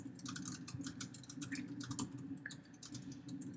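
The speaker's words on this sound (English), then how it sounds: "start typing Dover XML, and the file you downloaded should come right up" Typing on a computer keyboard, a fast, irregular run of light key clicks, close and steady, with no talk over a faint low hum.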